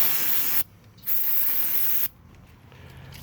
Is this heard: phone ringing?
no